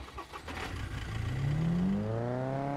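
A car in the video game SCUM pulling away, its engine rising steadily in pitch as it accelerates, close and alone without talk.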